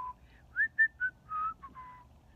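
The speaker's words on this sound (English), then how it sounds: "she whistled a song" A melodic tune whistled in a string of separate notes with short gaps, clear and moderately quiet over a faint low background hum.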